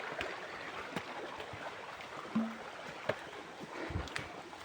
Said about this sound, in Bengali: পানি কলকল শব্দ আসলে মুগ্ধ করে দিতেছে আমাকে।